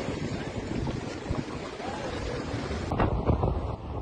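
Storm Pierrick lashes the Saint-Malo coast in Brittany with hurricane-force winds near 120 km/h and huge waves, producing a steady roar of wind buffeting the microphone and rushing surf throughout, with a louder gust near the end.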